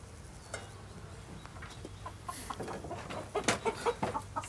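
Chickens at an Alpine farm cluck softly and intermittently amid faint background noise, growing a bit busier and louder toward the end.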